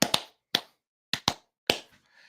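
Five sharp hand claps in an uneven rhythm, two quick pairs with a single clap between them, close and crisp, each one decaying fast into silence.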